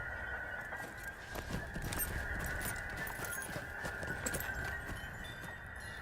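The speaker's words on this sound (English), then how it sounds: "definitely getting on the horse as I go to the 4th table" In the video game The Lord of the Rings Online, a horse is ridden with soft, steady clip-clop hoofbeats over a constant tonal hum, faint and unbroken for several seconds.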